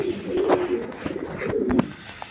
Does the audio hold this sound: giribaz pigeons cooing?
yes